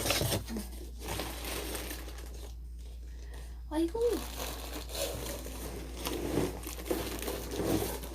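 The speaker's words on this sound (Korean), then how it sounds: "지금 처음으로 박스를 오픈해보는 거예요." A cardboard box is opened and plastic wrap crinkles, with soft rustling and crumpling scattered across several seconds, close by and fairly quiet, while someone speaks briefly.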